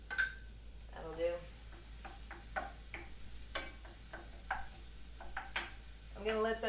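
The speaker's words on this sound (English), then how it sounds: "The onions are going in. They start sizzling." Onions sizzling in melted butter in a pan while being stirred, with a quiet frying hiss under repeated clinks and scrapes of the stirring utensil against the pan, loud close taps spaced irregularly throughout.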